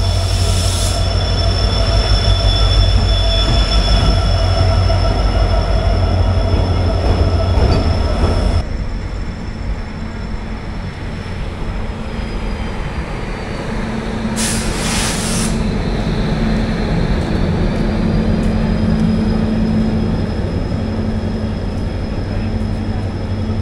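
Guruvayur Chennai Egmore Express pulling into Thrissur station, a loud steady rumble of wheels on track with high sustained squeals and brief bursts of hiss, close and continuous.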